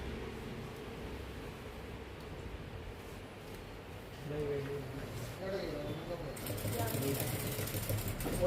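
Sewing machine running along the edge of a trouser belt, a steady mechanical whir that grows louder and busier midway, with fabric rustle and a voice talking over it.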